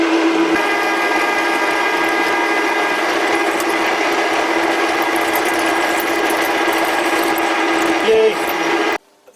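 A lathe drills into metal as the carriage feeds the bit, a steady loud whirring hum with a constant tonal whine that continues evenly before stopping abruptly near the end.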